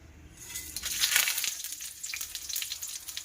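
Dried red chillies, bay leaves, cardamom, cloves, cinnamon and cumin crackle and sizzle in hot oil, a steady close hiss with sharper pops swelling in the middle, no voices.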